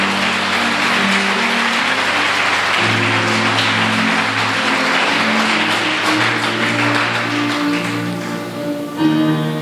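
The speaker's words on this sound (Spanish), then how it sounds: "si le va a dar un aplauso," Congregation applauding in a church service, a steady, dense wash of clapping that carries on for nearly ten seconds, with sustained organ or keyboard tones playing underneath and a brief swell near the end.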